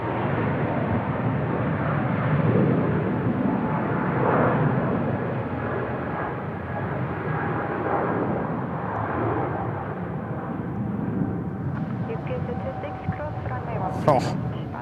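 A jet airliner roars in to land at Seoul Incheon Airport, a loud sustained rumble lasting throughout and swelling slightly before easing, with a faint whine near the end and a voice speaking over it.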